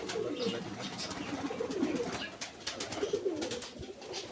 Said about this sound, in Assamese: এইটো ইয়াত সম্পূৰ্ণ পাৰ চৰাই আছে বাৰু গোটেইখিনি, কিন্তু বেলেগ বেলেগ